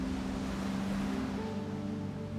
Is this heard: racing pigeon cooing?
no